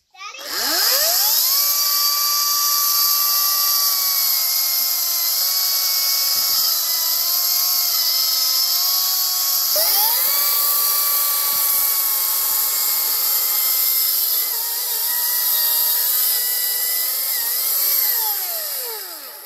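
A Ryobi chainsaw with a dull chain cuts through a small tree, its high, whining motor running steady and loud for the whole stretch, pitch dipping and recovering as it bogs in the wood.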